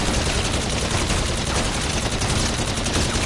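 Gunfire from the video game Beast from Beyond rattles without a break: dense, rapid shots blending into one loud, continuous burst with no talk over it.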